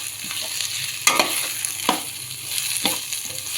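Dried turkey berries (sundakkai vathal) frying slowly in a pan over a low flame, a soft continuous sizzle broken by a few scraping stirs and light knocks of a spoon.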